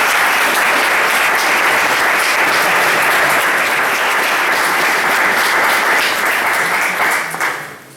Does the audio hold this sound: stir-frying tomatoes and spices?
no